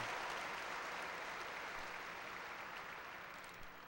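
Sustained applause from a large audience at a high school graduation ceremony, a dense roar of clapping that stays loud and steady throughout before easing slightly at the end.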